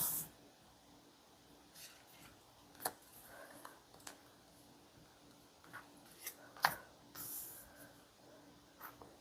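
Tarot cards being shuffled and drawn, with soft scattered card flicks and rustles against quiet room noise, a few sharper snaps standing out.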